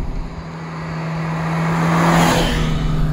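A Ferrari 328 engine under way on canyon roads, a steady engine drone rising slightly in pitch as the car accelerates, with road and wind noise, close and continuous without talk.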